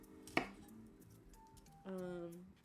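A knife cuts vegetables into stir-fry-size pieces on a board: one sharp, fairly faint chop stands out, followed by soft clinks and quiet kitchen sounds.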